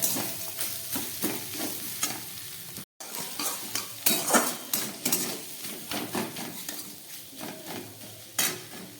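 Potato chop filling seasoned with Maggi masala is stir-fried in a pan: a steady close sizzle broken by repeated scraping strokes of a spatula, with a brief silent gap early on.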